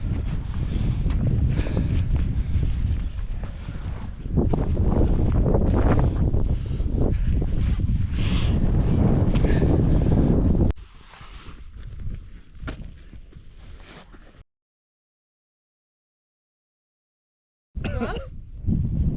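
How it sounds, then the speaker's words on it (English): Strong wind on a mountain climb buffets the microphone in loud, rough gusts that ease partway through, drop to silence, then return briefly, with footsteps and rustling beneath. "It's windy."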